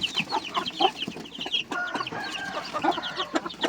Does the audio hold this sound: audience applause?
no